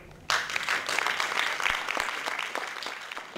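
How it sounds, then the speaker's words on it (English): An audience at a school play about Palestinian and Israeli children gives a round of applause, clapping starting abruptly and continuing in a fairly steady, moderately distant patter. "Let's give her a round of applause."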